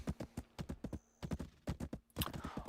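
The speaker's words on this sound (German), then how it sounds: "Autorun funktioniert auch mit dem Pferd." Horse hooves clip-clopping at a steady riding rhythm in the Black Desert Online video game, a fairly close, regular beat of hoof strikes with no talk.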